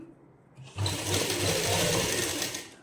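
Sewing machine stitching the hem of a suit, starting after a brief quiet moment and then running as a steady, close, continuous whir through to the end.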